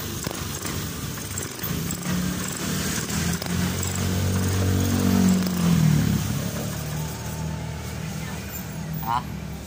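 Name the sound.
Honda Beat scooter engine starting and running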